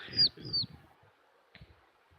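A person imitates bird noises with two quick, high whistled chirps close to the microphone, then a pause and a faint shuffle.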